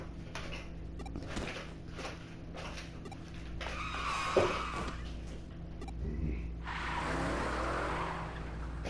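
A truck skids in the video game Digimon Story Cyber Sleuth: a rising tire screech over a steady low engine drone, ending in a broad, noisy skid that holds for a couple of seconds. No voices.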